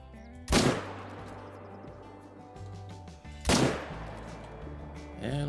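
Two loud, sharp rifle shots from a hunting video game ring out about three seconds apart at a moose, each with a short echoing decay over quiet game ambience.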